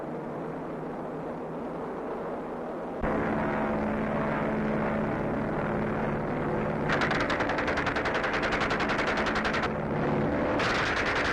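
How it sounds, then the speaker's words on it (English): Hawker Hind training biplanes roar past at close range while machine-gunning a ground target, a steady loud engine drone with dense rapid rattling bursts of gunfire layered over it through most of the stretch. "These Hawker Hinds are useful training aircraft. Here they go to machine gun a target on the ground."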